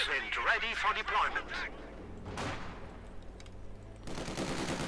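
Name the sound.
machine gun fire in Company of Heroes 2 video game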